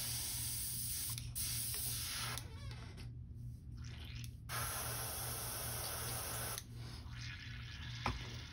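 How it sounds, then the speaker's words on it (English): An airbrush being cleaned out after painting a custom crankbait fishing lure sprays in steady hissing bursts, with brief gaps of quiet between blasts, close and fairly loud, with no talking. "Clean this out of my airbrush."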